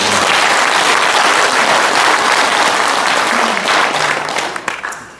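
Loud, sustained applause from a large indoor audience at a Korean book launch event, dense clapping filling the room and tapering off near the end.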